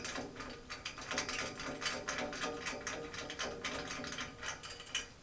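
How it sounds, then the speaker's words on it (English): A hydraulic rivet nut tool is pumped repeatedly to seat a riv nut in a custom K5 interior, giving a fast run of close mechanical clicks and ratcheting strokes that continues steadily throughout. "This one's hydraulic, so you just pump up the pressure till your riv nut's seated"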